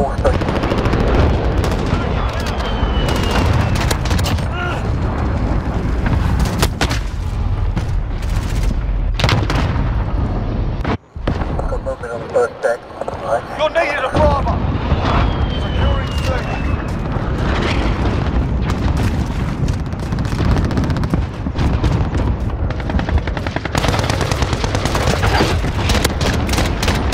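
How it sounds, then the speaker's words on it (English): Cluster-strike explosions and gunfire fill a Modern Warfare 2019 match, loud and continuous, with repeated booms and rattling shots, a brief drop near the middle, and game voices in the mix. "Allied cluster strike inbound."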